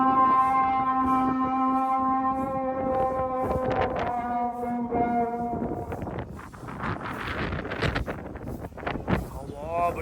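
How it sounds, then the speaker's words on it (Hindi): Strong wind blows outside, kicking up dust, a steady loud rush with gusty buffeting across the microphone, while a sustained tonal hum fades out partway through. "बाहर जो है हवा चल रही है और देखो ना मिट्टी उड़ रही है भाई साहब"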